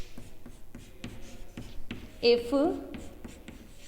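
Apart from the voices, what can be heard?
writing during a physics lecture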